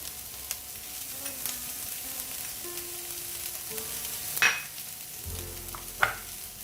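Mixed vegetables for vegetable Manchow soup frying in a pan while being stirred, a steady soft sizzle with occasional scraping clicks and a couple of sharper knocks from the utensil.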